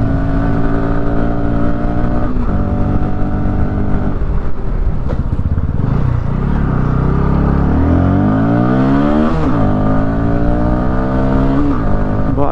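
Bajaj Pulsar NS200 motorcycle ridden in the rain, its engine loud and close as it revs up and down through repeated accelerations and gear changes, pitch climbing and falling steadily.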